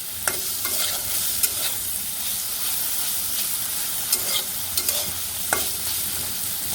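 Steady frying crackle fills the clip, with a few sharper pops and spatters standing out against the continuous sizzle.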